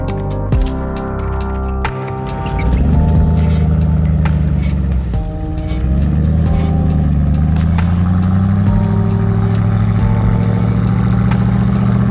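Bentley Ultratank or Jeep Wrangler converted to tracks pulls away in deep snow, a loud, steady engine drone rising as it moves off, with a short dip partway through before the engine note builds again.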